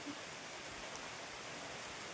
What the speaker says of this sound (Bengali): যা বৃষ্টি নেমেছে